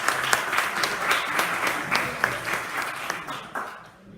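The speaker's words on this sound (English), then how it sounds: "I want to give a round of applause to them for commissioning it" An audience at a tea gathering gives a modest round of applause, scattered hand claps building into a steady patter at moderate distance, then fading away toward the end.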